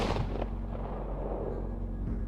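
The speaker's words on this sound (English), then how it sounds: "The shotgun's firing sound is thought to have been taken from this clip." A single heavy shotgun blast, the library source for the Duke Nukem 3D shotgun, opens with a loud sharp crack and then trails into a long, low rumbling decay.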